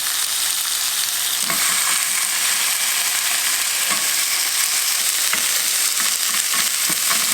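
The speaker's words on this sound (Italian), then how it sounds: "Padella calda, appoggio le fette di cipolle con una parte dell'uovo condito verso la padella." Egg-coated onion slices fry in a hot pan with a steady, dense sizzle, while faint clicks and stirring sounds come through now and then. No voices are heard.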